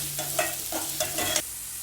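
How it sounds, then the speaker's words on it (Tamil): Chopped onions sautéing in hot oil for sweet corn fried rice, a steady sizzle punctuated by a few spatula stirs and scrapes across the pan, close and fairly loud, with no voices. "இதெல்லாம் போட்டு ஒரு 20 செகண்ட் வந்து நல்லா வதக்குங்க"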